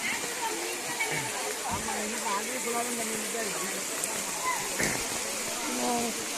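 Continuous rushing water flowing in a stream, with indistinct voices murmuring in the background.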